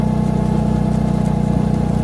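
A motorcycle engine idles steadily and close by, a low, continuous rumble with an even throbbing pulse and no speech over it.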